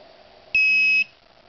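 A Garrett Pro-Pointer metal detector pinpointer gives a single steady electronic beep, high-pitched and fairly loud, holding for about half a second and then stopping, over a quiet hum.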